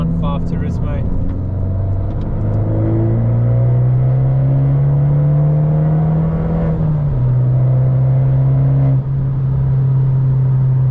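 An Abarth 595 Turismo exhaust booms under hard acceleration from inside the car, its engine tone climbing steadily through a gear, dipping briefly at a shift, then droning on loudly.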